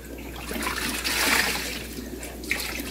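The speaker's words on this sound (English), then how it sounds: "So we'll wring that out really good. Go through it a few times. Rinsing it out. Wringing it out." An aquarium sponge filter rinsed and wrung out in a fish room: water splashes and pours steadily, with a louder gush in the middle, and a soft squeeze of the sponge comes near the end.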